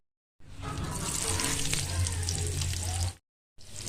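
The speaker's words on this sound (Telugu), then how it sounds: "ఇలా మసాలా దినుసులు, పట్ట, లవంగ, ఏలక, కొద్దిగా సోంపు, ఎర్రగడ్డ అన్నీ వేసి ఎర్రగా వేయించుకోవాలండి." Whole spices such as cinnamon, cloves, cardamom and a little fennel frying with onion in hot oil, a loud close sizzle that starts abruptly, holds for about three seconds, cuts out, then resumes briefly.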